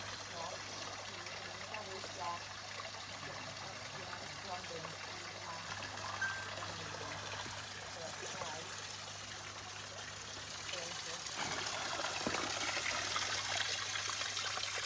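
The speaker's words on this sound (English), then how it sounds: "We'll just film water for a bit longer." Water running into a new liner in a garden koi pond, a steady trickling and splashing stream that thickens toward the end, with faint background noise and occasional voices.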